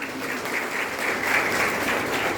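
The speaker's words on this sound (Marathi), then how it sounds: "टाळ्या तर वाजवा." Dense, steady applause from a crowd, continuous and fairly loud, with no other sounds standing out.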